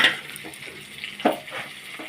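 Amudi fish frying in oil with chilli for a spicy curry, a soft steady sizzle with a few clinks of a utensil stirring in the pan.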